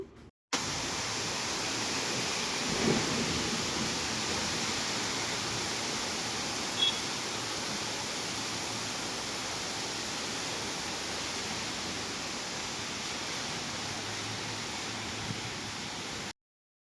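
Rain falls outside in a steady, even hiss that runs unbroken for several seconds, with a couple of faint knocks and no talking.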